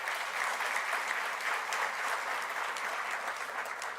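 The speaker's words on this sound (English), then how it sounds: "Another thunderous round of applause for our 2 governors." Sustained applause from an audience at a public lecture, an even, dense roar of many hands clapping that holds steady throughout.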